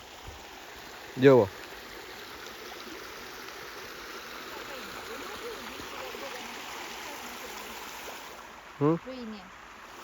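A small stream runs beside a village road, a steady, even wash of flowing water heard close, broken twice by short spoken phrases.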